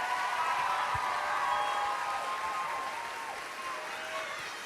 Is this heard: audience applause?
yes